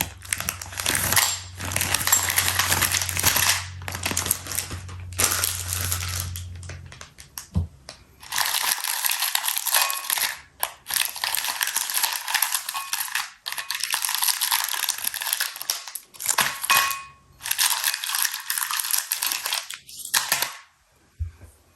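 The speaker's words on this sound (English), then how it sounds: "Let's pour this to the glass bowl." Chewy Laffy Taffy fruit candies in crinkly wrappers spill and clatter into a glass bowl, making a dense, continuous rush of close, bright rattling and crinkling that comes in waves with brief pauses.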